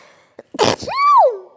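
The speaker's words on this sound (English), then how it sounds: "I'm gonna sneeze." A single loud sneeze right into the microphone: a sharp breathy burst followed by a drawn-out rising-and-falling vocal tail, with a short inhale just before.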